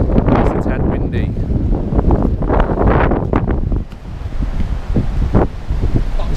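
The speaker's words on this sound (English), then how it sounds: "It's a tad windy." Strong wind buffets the microphone beside a lake where carp fishing is underway, a loud roaring gust that dips briefly and surges again, with faint voices under it.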